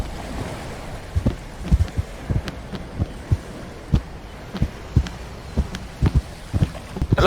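A boat in a video game rocking on the water, a run of dull, uneven thumps over a steady wash of water and wind.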